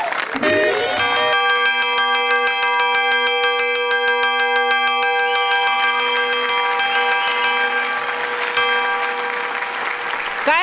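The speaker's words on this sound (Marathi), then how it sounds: "काय घंटा वाजाडतो रे?" On a Marathi comedy stage show set in a school, a bell rings loudly and repeatedly with sustained metallic ringing, while applause and crowd noise continue underneath throughout.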